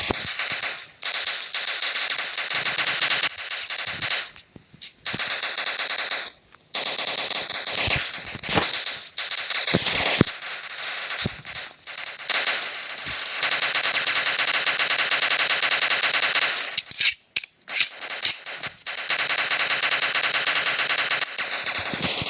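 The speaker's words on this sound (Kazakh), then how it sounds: "нағыз атыс болып отыр осы ойында" Rapid automatic gunfire in the mobile shooter game Block Strike, loud and nearly continuous bursts with brief pauses, dense crackling shots throughout.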